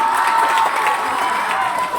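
An audience at a Teacher's Day celebration at a public school in Doda cheers and applauds as a poet is called to the microphone. A loud, continuous crowd roar with shouts and clapping, with no pause.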